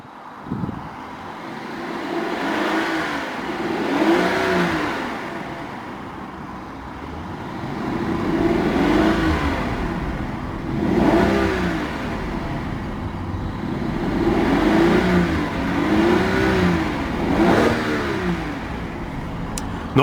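A 2014 Rolls-Royce Ghost SWB with a 6.6-litre V12 idles and revs repeatedly, the smooth engine and exhaust note rising and falling in several swells with a hiss of outdoor background.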